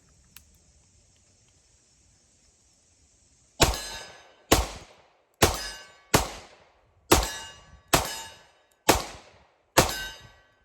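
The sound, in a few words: Colt Delta Elite 10mm pistol shooting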